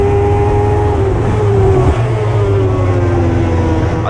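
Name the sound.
race car engine at full throttle in racing video game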